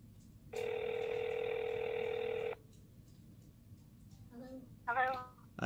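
A Google Voice call comes through as a steady electronic ring tone lasting about two seconds. A brief warbling tone and a short voice burst follow at low level.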